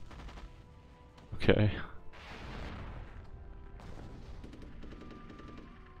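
Mortar artillery fire in the Rise of Nations strategy game: a single loud booming impact followed by a rumbling decay, with faint background battle noise and a brief spoken word.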